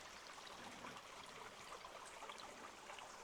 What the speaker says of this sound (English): yeah, a little bit of running water.